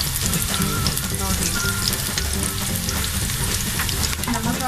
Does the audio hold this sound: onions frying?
yes